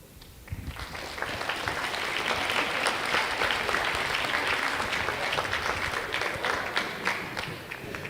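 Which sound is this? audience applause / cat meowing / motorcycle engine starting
audience applause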